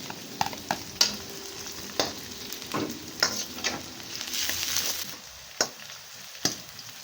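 Onion and garlic frying in a pan for Filipino adobong puti, a continuous sizzle broken by sharp clinks and scrapes of a spatula stirring against the pan, close and clear with no talking.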